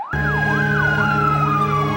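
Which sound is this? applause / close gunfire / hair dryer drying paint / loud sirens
loud sirens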